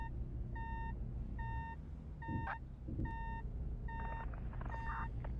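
A fire truck in the emergency-services game Flashing Lights reverses, with a steady series of evenly spaced electronic reversing beeps over a low engine rumble and a couple of brief mechanical clunks.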